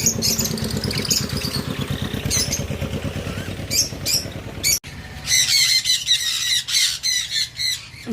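Loud, harsh sun conure squawks in repeated bursts, close by, over a low idling engine hum that drops away partway through.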